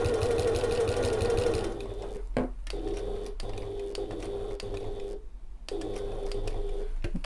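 Sewing machine top-stitching the flap of an evening bag: fast whirring stitch runs close up, broken by several short pauses as the fabric is pivoted, then resuming each time.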